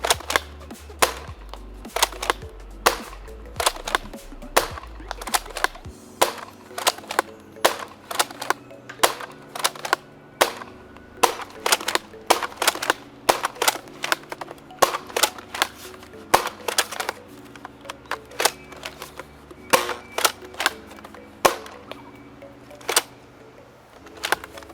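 A modded Nerf Rival Takedown, a lever-action foam blaster, firing eight shots outdoors: sharp, close snaps spaced about a second or two apart, each followed by mechanical clacks of the lever cycling.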